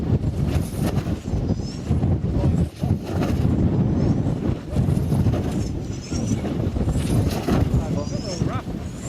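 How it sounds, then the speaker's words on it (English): Strong wind gusting outdoors at a rough, exposed spot, a loud steady rumble with buffeting across the whole clip and voices faintly underneath. "Yeah, there's a lot of wind on. Gone a bit rough."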